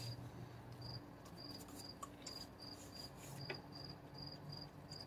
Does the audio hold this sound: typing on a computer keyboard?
no